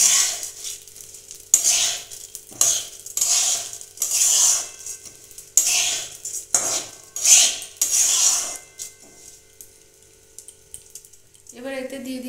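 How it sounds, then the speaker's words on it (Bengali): Basmati rice mixed into ghee in a pot, heard as bursts of grainy scraping and stirring separated by short pauses, close and fairly loud, with a brief higher clatter at the end. "আমি ঘিয়ের সঙ্গে চালটাকে মিশিয়ে নিচ্ছি"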